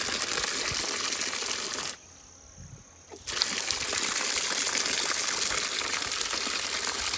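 Water gushes from a pipe carrying water down from a hilltop at a Thai forest temple, a steady loud rush that cuts out for about a second midway and then resumes at full force.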